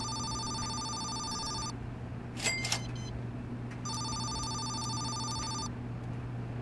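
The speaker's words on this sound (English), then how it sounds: "Phone call." A telephone rings in Laundry Store Simulator, two long electronic ringing bursts separated by a brief clatter, loud and steady over a constant low machine hum.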